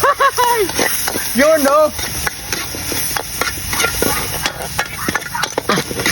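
Mixed vegetables hit a little oil in a pan for fried rice, giving a steady frying hiss and stirring noises. Someone talks loudly and exclaims over the cooking near the start.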